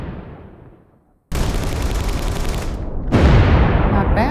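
Explosion or gunfire sound effect being auditioned from a sound library: after a fading rumble and a brief silence, a loud, dense burst of blasts and crackling fire erupts and swells, heard alone.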